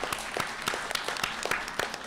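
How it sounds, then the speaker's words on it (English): An audience claps for a cartoonist at a talk on comics, a moderate round of applause with distinct individual claps popping over a steady wash of hands, fairly close and without speech. "Please give him a round of applause."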